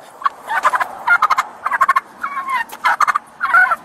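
A turkey gobbles in loud, rapid rattling bursts close by, with several gobbling calls in quick succession and no speech.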